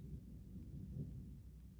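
Distant thunder rolls as a low, continuous rumble, faint and steady throughout, with no other sounds over it.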